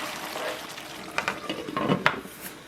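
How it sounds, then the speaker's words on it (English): A vegetable and paneer masala curry with tomato, cilantro and garam masala is stirred in a pan, giving a soft background sizzle broken by a few brief scrapes and clinks of the spoon, quiet and close. "Stir it again"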